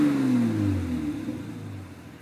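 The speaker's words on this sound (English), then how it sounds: "Let me give it a little rev so you can hear it." Six-cylinder engine of a lowered 1993 Lexus SC300 after a brief rev, its pitch falling as the revs drop back toward idle, close and fairly loud, no talk.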